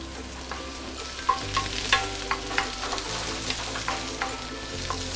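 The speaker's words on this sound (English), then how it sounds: "we want to saute our" Vegetables sauteed in an unwashed wok with onion oil for Singapore-style fried beehoon, with a constant close sizzle and a run of irregular scraping, clattering stirs, and no talking.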